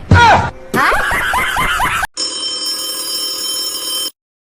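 A telephone rings steadily for about two seconds, a bright electronic trill, right after a burst of voices and laughter.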